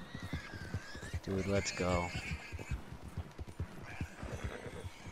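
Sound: horse hooves clip-clopping in a video game

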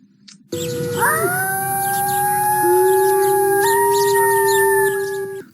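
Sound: wolves howling

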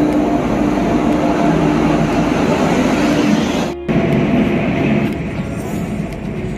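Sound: train arriving at a Kolkata station

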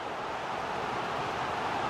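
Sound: stadium crowd noise in FC 24 video game match

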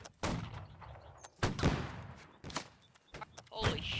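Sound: gunfire volley in a line battle video game

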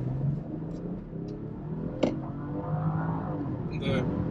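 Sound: BMW X5 e45 hybrid M engine revving

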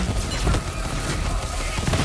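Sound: gunfire from a video game

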